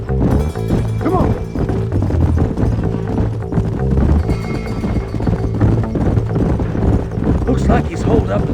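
Horses galloping in the Red Dead Redemption video game, loud rapid hoofbeats running under people talking and a music-like score, with tack and impact noises mixed in.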